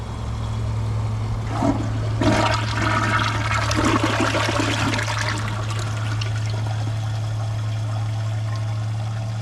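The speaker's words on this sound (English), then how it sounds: "It has a pretty powerful flush." A 2025 Kohler Highline Arc toilet on a tall tank giving a strong flush, a loud surging pour and gurgle that fades into steady trickling refill, close up, with a constant low hum beneath.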